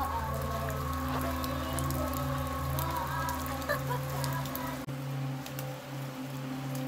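Steady rain falls throughout with no talking, a dense, even patter like drops on a hard surface, joined by a constant low hum. The sound stays fairly loud and unchanging the whole time.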